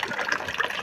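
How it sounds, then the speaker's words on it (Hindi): Water gushes steadily from a newly connected government tap at a home, a loud, continuous splashing rush filling the short moment with no voices. "फाइनली गाइस यहाँ पर नल आ गया मेरे घर"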